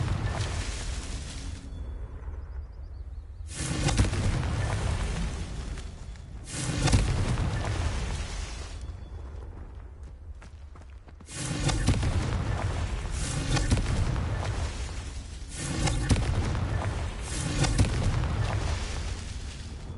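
A run of Confringo fire spell explosions goes off in the video game Hogwarts Legacy. They come as repeated loud, booming bursts a few seconds apart, and each one trails off into a rumbling decay.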